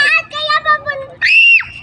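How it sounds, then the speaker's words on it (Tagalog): A child outdoors on a rural road beside rice fields gives a few wavering cries and then a long high scream, close and loud. "sumisigaw na yung bata"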